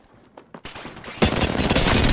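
Gunfire strikes the player in Apex Legends on the Broken Moon map, quiet scattered hits at first, then a dense, loud, sustained burst of rapid shots and impacts for the last second.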